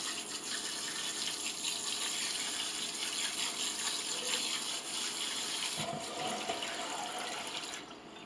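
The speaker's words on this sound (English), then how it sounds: "So now I'm just gonna give this a good rinse." A running tap pours over a screen of eggplant seeds and pulp being rinsed, a steady close splashing rush of water that shifts slightly as the flow is moved, with no voices.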